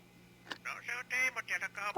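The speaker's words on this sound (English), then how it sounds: "The phone rings right as I'm jacking up the car." In the car-building video game My Summer Car, a phone gives a series of short electronic ringing bursts in a broken rhythm, fairly faint, with a low steady hum underneath.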